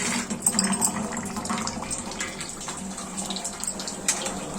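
A plate is rinsed under a running tap while preparing raw jackfruit piyaju batter, giving a steady close splash and trickle of water with no talk.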